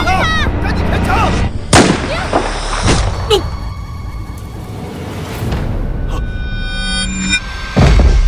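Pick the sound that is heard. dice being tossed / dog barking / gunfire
gunfire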